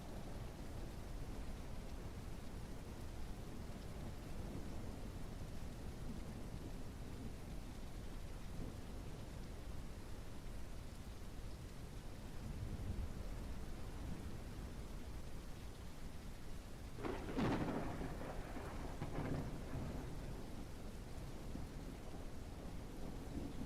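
Steady rain hisses throughout a storm in the train game Railroads Online, with a low distant rumble of thunder and then a sharp, close crack of thunder near the end, with no talk.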